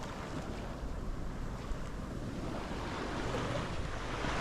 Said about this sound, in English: we've got the sound of surf and waves to serenade us as we walk